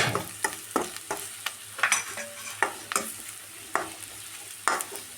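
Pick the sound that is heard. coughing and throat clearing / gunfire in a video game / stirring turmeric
stirring turmeric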